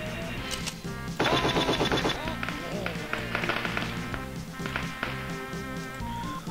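A machine gun fires in the trench-warfare game Super Trench Attack 2, a dense rapid burst standing out over continuous game music and effects, with someone talking over it.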